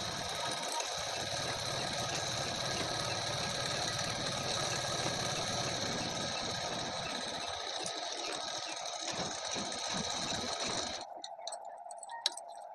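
A sewing machine runs continuously as it stitches a suit seam, a steady mechanical whir and hum that cuts off abruptly near the end, leaving quiet.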